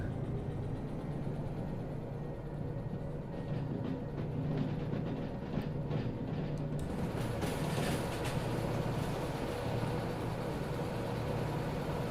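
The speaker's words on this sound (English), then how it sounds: "Thinking I'll probably be able to get up to speed a little faster if I engage both locomotives" Two coupled locomotives running in the Derail Valley train simulator, a dense continuous rumble and drone with a faint rhythmic clatter, steady throughout with a slight brightening partway, no talking.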